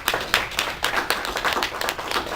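An audience applauds after a donation is acknowledged at a Barbados parent-teacher council event. The clapping is brisk and fairly close, a dense patter of many hands that carries on steadily for a couple of seconds.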